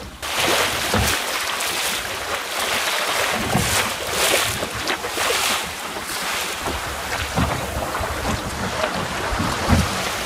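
Small sailboat from the late 1960s crossing open water in strong wind with one reef in, loud wind buffeting the microphone over hull slaps and rushing water, steady and close throughout, no talking.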